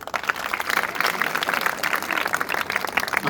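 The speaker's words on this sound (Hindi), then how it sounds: "इसके लिए ताली बजाएं आप।" Audience clapping at a Haryanvi village gathering, a steady crowd applause holding at even loudness throughout.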